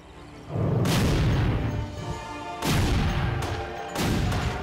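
Video game explosions from red explosive balls that take out nearby targets: three heavy booming blasts, loud and close, each with a long rumbling tail, spaced a second or two apart, with no talk.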